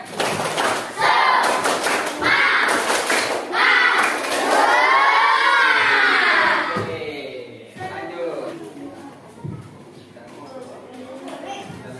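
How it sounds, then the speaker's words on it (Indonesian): A school class performs the tepuk semangat spirit clap, sharp group claps in a quick rhythmic pattern mixed with loud children's chanting and shouting, then fading into a teacher's voice and quieter room noise. "Sekali, tepuk semangat."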